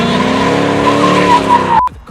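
A loud car engine revs hard while tires screech in a sustained drift skid at a drifting event, then cuts off abruptly near the end.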